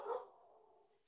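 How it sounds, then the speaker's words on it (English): A single short dog bark, fairly close, followed by a brief fading whine. "Sorry about my dog."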